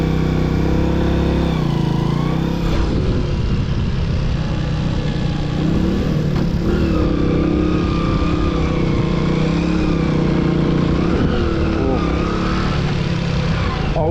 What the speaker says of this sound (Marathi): मित्रांनो गाडी रेगिस्तानमध्ये अडकली, निघा नाही